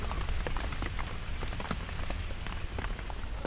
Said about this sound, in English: Let us begin with the falling of rain.